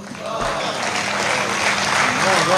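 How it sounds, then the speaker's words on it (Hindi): Audience applause at a Hindi poetry or storytelling stage event, steady and fairly loud clapping from a crowd that fills the whole stretch, with a voice or music faintly mixed underneath. "और तालियां तो अब चाहिए"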